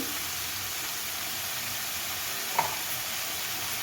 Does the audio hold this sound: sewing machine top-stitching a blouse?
no